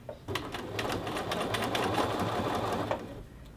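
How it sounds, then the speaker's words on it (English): A sewing machine edge stitching around a men's shirt collar band runs in one continuous, close, whirring burst of rapid stitching, starting and stopping cleanly. "we're going to stitch completely all the way around this collar band"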